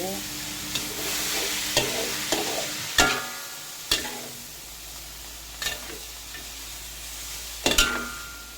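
Vegetarian noodles stir-frying in a pan with vegetable stems, seasoning powder and five-spice braising broth, giving a steady low sizzle punctuated by about eight sharp scrapes and clanks of a utensil against the pan.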